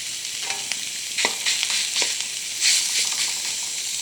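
Minced pork belly stir-fried with curry paste in a pan gives a steady sizzle broken by scraping stirs and a few sharper clatters, close and alone without talk.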